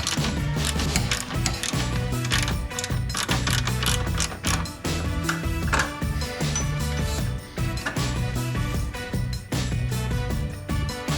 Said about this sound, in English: So we're taking this top, tank mount bolt off.